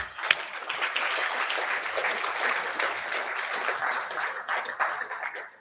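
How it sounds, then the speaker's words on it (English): Steady applause from a crowd, a dense patter of many hands clapping for several seconds before tapering off. "Give another round of applause."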